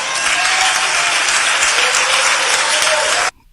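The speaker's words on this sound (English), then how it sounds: "You take a look at that congregation clapping and cheering." A church congregation claps and cheers together, a dense, steady wall of applause that holds at full strength for about three seconds before cutting off abruptly.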